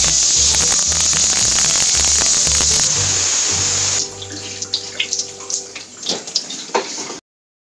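Vegetables from the fridge are rinsed under a running kitchen tap, a steady loud gush of water filling the sink for about four seconds before it eases into scattered splashes and drips as the produce is handled.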